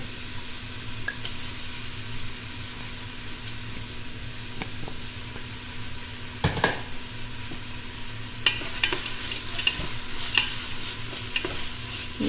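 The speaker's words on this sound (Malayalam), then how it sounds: "ചെറുതായിട്ട് വഴന്നാൽ മതി അതിൻ്റെ കൂടെ തന്നെ നമുക്ക് കുറച്ച് ഉപ്പിട്ട് കൊടുക്കാം പെട്ടെന്ന് ഉള്ളി വഴക്കി കിട്ടാൻ വേണ്ടിയിട്ടാണ്" Chopped onions sauté with a pinch of salt in a pan for a meatless curry, making a soft continuous sizzle with occasional scraping stirs and clinks of the spoon, close and steady with no talk.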